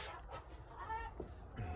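Backyard chickens cluck softly for a couple of seconds, faint and close over low background noise.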